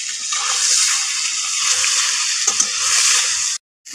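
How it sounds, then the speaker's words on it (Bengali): Koi fish fry in hot oil in a village kitchen, a loud, continuous hissing sizzle with faint scraping and stirring that runs steadily before cutting off abruptly at the end. "মাছগুলো সব ভেজে নিয়েছি, এবার উঠিয়ে নিচ্ছি"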